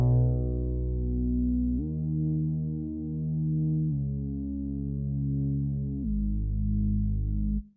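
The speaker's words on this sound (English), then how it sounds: "which is based on the Hybrid 3 preset Moog Bass Chorus." Moog-style chorus bass from the Hybrid 3 Moog Bass Chorus preset, played dry with no effects: four sustained low notes in succession, steady and thick with a throbbing chorus shimmer, heard alone.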